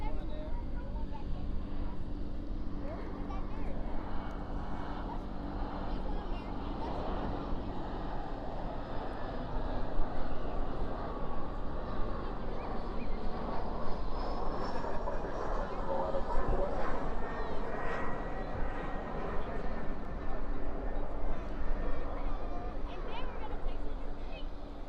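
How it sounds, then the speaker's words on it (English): An Embraer E175 jet landing at night at Dallas Fort Worth airport, spoilers up and thrust reversers out, gives a long, distant rushing roar that swells midway. Voices talk over it at times. "Spoilers up, reversers out on this E175."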